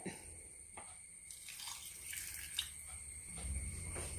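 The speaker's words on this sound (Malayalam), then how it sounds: "അതിലേക്ക് ഈ ചായക്കപ്പിന് 1/4 കപ്പ് വെള്ളമാണ് ഒഴിക്കുന്നത്" Water poured into a pot of jaggery for melting, heard as faint intermittent trickles and drips, close by and quiet, with no talking.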